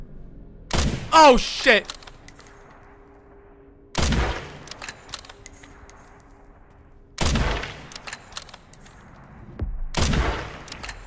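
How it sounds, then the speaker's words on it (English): A bolt-action rifle firing in a video game, four loud separate shots spaced a few seconds apart, each followed by a short echoing tail, with a man's brief exclamation near the start. "the bolt action rifle is fucking awesome"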